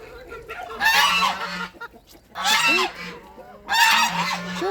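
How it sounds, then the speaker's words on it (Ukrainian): Geese honk loudly in three noisy bursts close by, with harsh cackling calls and brief pauses between them. "Гуси верещать."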